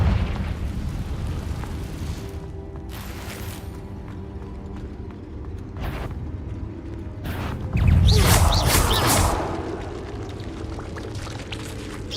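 A Confringo fire spell detonates in Hogwarts Legacy: a booming burst and rumbling eruption that swells loudly, then fades, with scattered whooshes and impacts around it.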